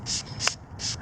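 Cleaner sprayed onto a K&N cabin air filter, three short hissing spray bursts in quick succession, close and fairly soft, with no talking.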